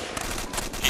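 A brief, loud burst of rapid gunfire in a military shooter game, a dense crackle of overlapping shots with a sharper report at the very end, and no voices.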